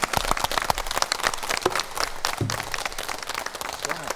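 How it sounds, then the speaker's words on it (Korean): An audience welcomes two traditional Korean pansori performers, a singer and a drummer, with dense, lively applause that swells and fades over a few seconds. "여러분들 두 분을 큰 박수로 한번 모셔보겠습니다."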